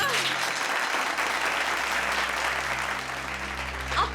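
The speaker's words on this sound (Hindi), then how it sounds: "तालियां!" Audience applause fills a birthday party scene, dense steady clapping from a crowd lasting throughout, fairly loud and close with a slight dip near the end.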